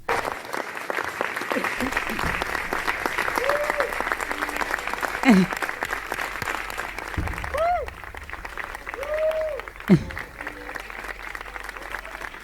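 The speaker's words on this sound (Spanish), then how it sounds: "estos fueron los aplausos de la función que sucedió el 25, el sábado, segunda temporada de Israfel" Sustained applause from a theatre audience after a Saturday performance of the play Israfel, in its second season. The clapping is dense and steady for about twelve seconds, with a few brief voices and whistles rising over it.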